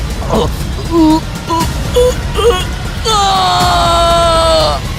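A man's strained, drawn-out yell rising into a sustained loud scream of fright, preceded by short choked vocal bursts.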